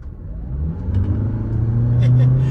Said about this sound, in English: as you can hear, it does have that constant whine of no gears of a CVT style transmission